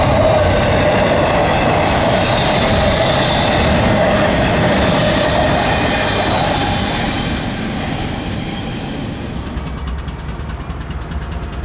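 A Florida East Coast freight train rolls past close by, a loud steady rumble of wheels and cars with faint clickety-clack, slowly fading as it moves away.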